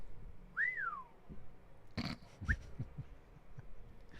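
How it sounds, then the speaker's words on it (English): A person whistles into a microphone: a single rising-and-falling whistled note, then a short chirp among faint handling bumps and background noise, fairly quiet overall. "I didn't know whistling into the microphone actually worked."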